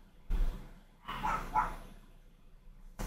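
Dogs bark at home in a few separate bursts: one short bark, then a longer sequence of louder yelps, all moderately near with quiet gaps between.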